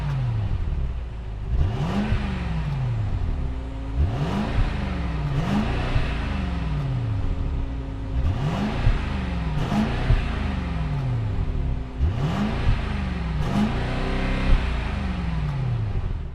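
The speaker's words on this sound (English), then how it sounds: "let's fire up this 4-liter twin turbo V8 and hear how she sounds" A 2026 Mercedes-Benz GLE 580 with a 4-liter twin-turbo V8 mild hybrid revs hard and close, about eight quick throttle blips rising and falling over a steady idle.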